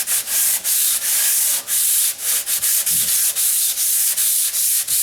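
Close, steady rubbing of sandpaper on a mudded drywall patch, with rhythmic back-and-forth strokes and short gaps between passes.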